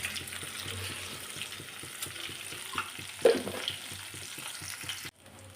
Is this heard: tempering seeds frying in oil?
yes